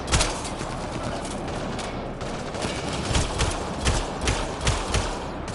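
Sustained gunfire from the Mass Effect Andromeda game, a loud, dense volley of rapid shots with heavy thumping impacts running throughout the whole stretch.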